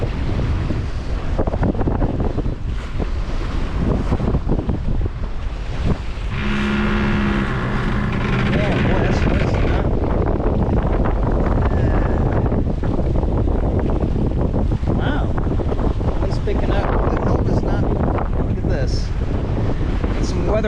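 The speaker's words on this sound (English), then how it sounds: "I don't know what the wind speed really is, but it's probably about 10 knots, maybe 12." Heavy wind buffets the microphone aboard a small sailboat in roughly 10 to 12 knots of breeze, a constant loud roar with faint water wash underneath and no clear speech.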